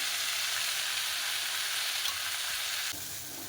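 Mustard paste and masala sizzling in hot oil in a pan for a cauliflower and potato curry, a steady close frying hiss that thins out slightly near the end, with no talking.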